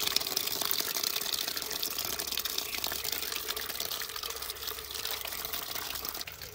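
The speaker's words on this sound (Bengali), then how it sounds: "মাছগুলো এরকম আস্তে আস্তে নাড়াচাড়া দিয়ে সুন্দর করে সময় নিয়ে ধুয়ে ফেলতে হবে মাছগুলো" Running water pours steadily over small fish being washed in a sieve, a continuous close splashing hiss with no pauses.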